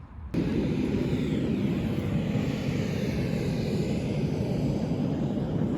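A single airplane at a tiny airport in Kazakhstan gives off a steady, loud engine drone that starts abruptly and holds constant throughout.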